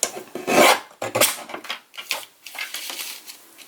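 A cutter trims a paper embellishment for a shaker envelope book in short rasping strokes, with a few bursts of scraping and rubbing that fade in and out.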